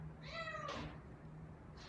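A neighboring cat lets out a short, faint meow in the background, followed by a softer second call, over a quiet indoor hum.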